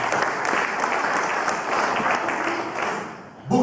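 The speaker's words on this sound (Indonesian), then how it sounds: "Tepuk tangan buat Tuhan." A crowd at a church service in a prison claps in sustained applause, loud and dense, with a voice starting up at the very end.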